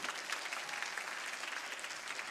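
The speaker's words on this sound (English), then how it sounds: "Can we give them another big round of applause collectively?" Steady applause from a congressional debate audience, a dense patter of many hands clapping at even volume, heard from a distance without voices.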